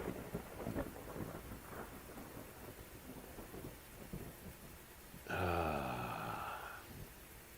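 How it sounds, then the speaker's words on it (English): Rain and thunder in the Civil War strategy game Grand Tactician: a steady wash of rain runs throughout, with a loud, rumbling thunderclap bursting in near the end and fading slowly. "We might have to have a battle in the rain."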